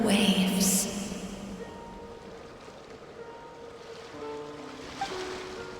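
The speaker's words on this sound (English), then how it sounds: "Go to where you can hear the sound of the waves." Ocean waves washing in a soft, continuous surf with gusty wind, louder at first and then settling into a gentle background wash.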